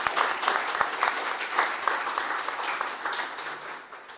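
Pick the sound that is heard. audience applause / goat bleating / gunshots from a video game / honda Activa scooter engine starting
audience applause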